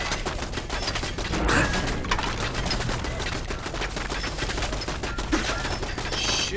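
Dense, sustained automatic turret gunfire in the video game Fallout 4, a loud continuous hail of rapid shots with no talk over it.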